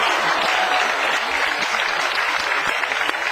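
A television studio audience bursts into applause on a late-night talk show, a dense, loud, continuous roar of clapping without a break.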